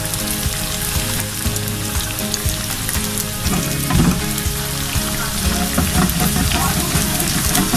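Kachoris, stuffed pastries, deep-frying in hot oil, giving a steady, dense sizzle and crackle that holds close and loud the whole time, with small bubbling bursts throughout.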